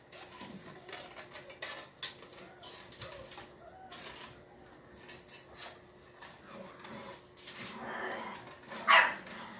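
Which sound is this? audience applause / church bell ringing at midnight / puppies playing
puppies playing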